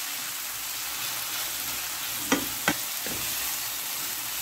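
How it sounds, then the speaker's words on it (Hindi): Chicken wonton filling with soy sauce is stirred in a hot pan, giving a steady soft sizzle with two or three brief scraping clicks of a utensil against the pan near the middle. "अच्छी तरह सारी चीज़ों को मिक्स करेंगे।"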